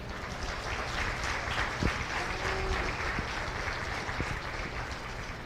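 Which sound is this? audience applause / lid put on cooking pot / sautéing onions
audience applause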